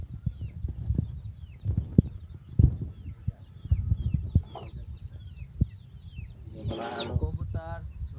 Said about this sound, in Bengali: সেখানেই নানান ধরনের পাখি পাওয়া যায় এবং এখানে নানান ধরনের পশু পাখি পাওয়া যায়।